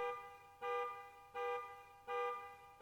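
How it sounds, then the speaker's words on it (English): A car alarm in a video game blares in regular pulses, four loud electronic honks about two-thirds of a second apart with short gaps between, close and insistent, no voices. "A loud blaring of a car alarm as Nazer drops the bags onto the floor and rushes out the door."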